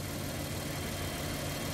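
A car's air-conditioning condenser fan pulls air through the condenser toward the engine while the engine idles, making a steady, dense whooshing roar with a low engine rumble underneath.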